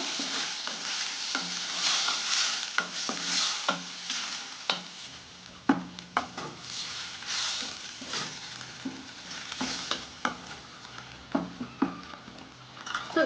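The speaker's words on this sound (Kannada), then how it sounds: "ಟೊಮೆಟೊ ಹಾಗೂ ಈರುಳ್ಳಿಯನ್ನು ಚೆನ್ನಾಗಿ ಬಾಡಿಸ್ಕೊಳ್ಳೋಣ" Tomato and onion stir-fried in a pan, a steady sizzle broken by repeated scraping and clacking of a spatula against the pan, close and moderately loud, with no talking.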